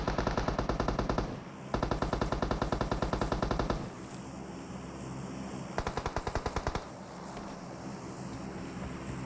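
Machine gun fire in a video game rattles in rapid sustained bursts, loud and close, with short gaps and a steady ambient rumble underneath.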